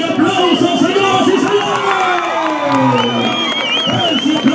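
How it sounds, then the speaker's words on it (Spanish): Rodeo crowd in Texcoco cheering and clapping in a loud, dense wash of noise that lasts the whole stretch, with an announcer's voice and music-like tones riding over it. "¡Ese aplauso para el bonito!"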